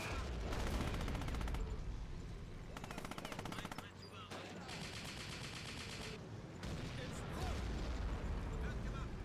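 Rapid, sustained rifle and machine-gun fire rattles through a wartime battle in the video game Real Warfare on a cold Eastern Front map, with bursts of shots, heavy booms and rumbling explosions layered densely and loudly throughout.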